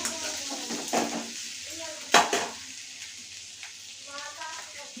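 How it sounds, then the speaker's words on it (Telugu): Okra stir-frying with turmeric in a pan for an Andhra-style fry, with scattered scraping and clinking of a utensil over a soft sizzle and occasional faint voice. "పసుపుని యాడ్ చేసి మనం బాగా మిక్స్ చేసుకొని"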